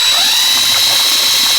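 A drill-driven pump sucks water out of a household feed and expansion tank, giving a steady, loud mechanical whine with a constant high tone that runs unbroken throughout.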